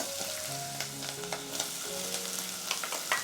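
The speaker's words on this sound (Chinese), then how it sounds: "稍微多炒一下，把这个梅菜干的香味炒出来" Pork belly, minced garlic, chili rings and dried mustard greens stir-fry in a wok with a steady close sizzle, the spatula clinking and scraping in quick irregular strokes throughout.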